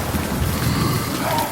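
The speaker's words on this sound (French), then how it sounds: "la pluie qui tombe" Rain falling within a French rap track makes a soft, continuous wash of hissing noise that holds steady and moderately loud through the short excerpt.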